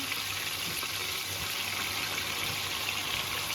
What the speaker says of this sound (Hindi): तो चिकन में जो है तकरीबन मैं आधा गिलास पानी डालूंगी